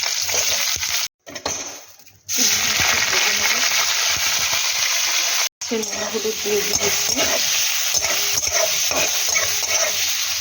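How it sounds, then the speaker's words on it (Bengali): Potatoes frying in hot oil in a home kitchen pan, a steady close sizzle with stirring scrapes, broken by two brief silent gaps. "আলুটা ভেজা হয়ে গেছে বা তুলে নিই সবটাও ভেজে নেব"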